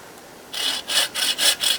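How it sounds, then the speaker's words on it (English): Small folding saw cutting through a tree branch, four rasping wood strokes in a steady back-and-forth rhythm, close and fairly loud after a brief quiet start. "Many of you, including me, cutting trees like this with those small, expensive"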